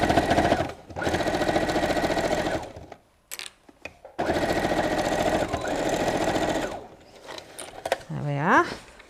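A sewing machine back-stitches a seam on a picnic tote bag, whirring loud and close in two long runs with a short stop between them, followed by faint handling sounds and a brief rising mechanical whine.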